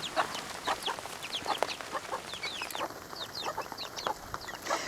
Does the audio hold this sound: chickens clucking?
yes